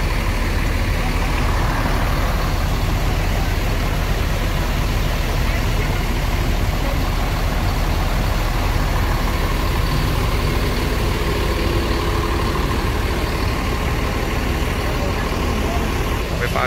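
Rosalia Indah buses idling in a crowded bus terminal parking area, a continuous loud low engine rumble with broadband noise that never lets up, close and steady throughout.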